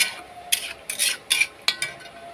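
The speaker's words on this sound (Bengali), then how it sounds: "এবার আমি ওকে ঢাকনা দিয়ে দেব" A metal lid goes onto a wok of spiced food, a few bright clanks and scrapes at close range over a faint sizzle.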